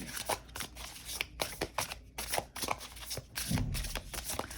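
Large oversized cards shuffled by hand in a quiet room, a run of close, crisp riffles and slaps in quick bursts with brief pauses between them, no one talking.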